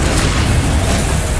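Confringo blasting spell erupting in Hogwarts Legacy on PS5, a loud, continuous low rumbling explosion roar that fills the whole moment without any break or talking.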